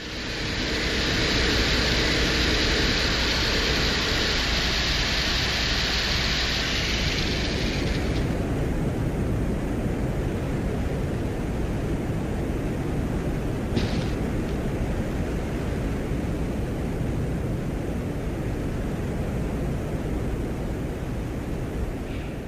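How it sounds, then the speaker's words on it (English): Hissing, roaring wind noise recorded on Venus by a Soviet probe, with a brighter whine from the probe's drill in the first several seconds and a faint click midway. "it's the sound of wind and the probe's drill"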